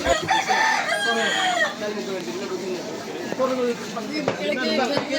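Chickens at a hill market give clucks and squawks close by, mixed with people talking and general crowd chatter throughout.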